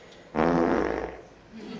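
A single fart, about a second long, with a low buzzing rumble that trails off into quiet.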